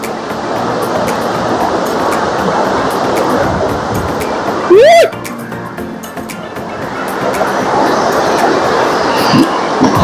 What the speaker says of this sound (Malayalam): ഇത് താഴോട്ട് വെള്ളം ഇറങ്ങുന്ന കാഴ്ചയാണ് കാണണ്ടേ